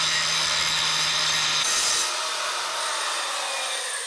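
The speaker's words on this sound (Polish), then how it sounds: "Szlifujemy łeb nitu na zero, tak żeby trzpień w zakuwarce miał dużo lżejszą robotę z wypchnięciem." Angle grinder or similar power tool grinding a motorcycle chain rivet head flush, a loud continuous high abrasive whine that shifts pitch partway through, close and alone.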